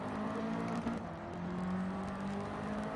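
Steady car engine drone from the racing video game Gran Turismo 7, a sustained, fairly loud hum with slight shifts in pitch, heard alone without talk.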